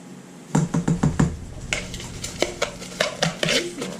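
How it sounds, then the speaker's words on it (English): Crab cake ingredients with egg and soy sauce being mixed in a bowl, rhythmic scraping and clinking of a utensil against the dish in quick repeated strokes. "Take this and mix it all together."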